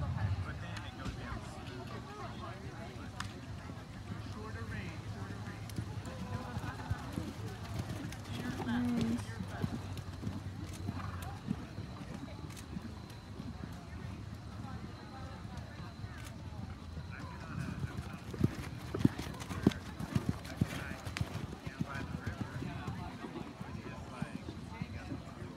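Several horses canter around an indoor show ring during a walk-trot-canter class, their hooves drumming a steady clip-clop over the whole stretch while a voice talks over the public address.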